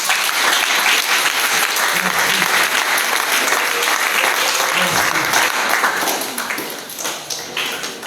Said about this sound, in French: Est-ce qu'on pourrait acclamer plus fort que ça?